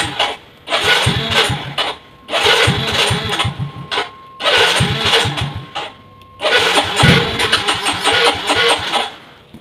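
A Yamaha Soul GT motorcycle with hard starting and unstable, stalling idle cranks and fires in four separate bursts, each running a couple of seconds before cutting out, close by with a steady mechanical whine.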